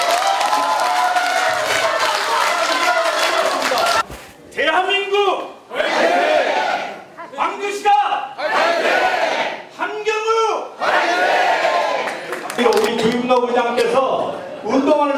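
An indoor crowd at a Korean election campaign office opening applauds and cheers loudly, with shouts and bursts of clapping that swell and fade between amplified speech.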